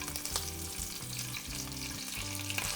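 A steak's sides sear in a frying pan with a steady, close sizzle and crackle of hot fat, with a few soft bumps as the meat is turned and held, and no talking.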